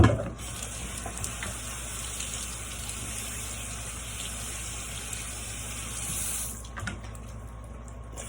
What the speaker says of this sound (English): we're just gonna get the mop head wet